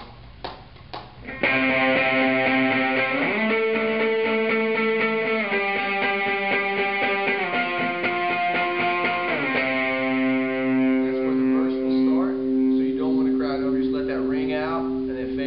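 An electric guitar plays sustained chords and single notes with a fairly clean tone, ringing and overlapping, a short muffled knock at the start.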